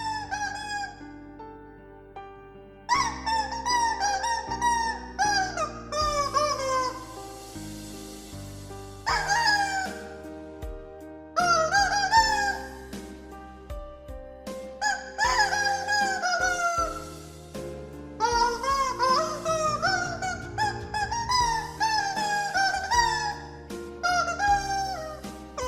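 A rubber chicken squeaks out a melody, loud honking squawks bending up and down in pitch, with musical accompaniment underneath and short pauses between phrases.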